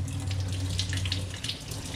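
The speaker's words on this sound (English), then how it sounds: "So we're going to turn our water on." Warm tap water runs steadily from a faucet into a kitchen sink with the drain stopper in, a continuous close splashing hiss throughout with no talk.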